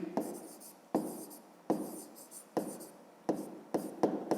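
A pen scratches across a notebook page in close, quiet bursts of strokes, about six or seven separate scribbles with short pauses between them.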